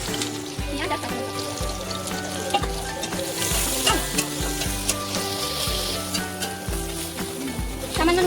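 Dried red chillies, chopped onion and green chillies frying in hot oil in a pan, giving a loud continuous sizzle with crackling pops throughout, over a steady droning hum in the background.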